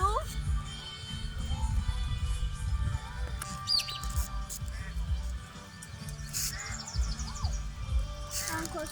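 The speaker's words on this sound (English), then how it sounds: "There's about a dozen parrots in those trees." About a dozen parrots call from trees, giving scattered sharp chirps and squawks, some near and some farther off, while people talk quietly under low background rumble.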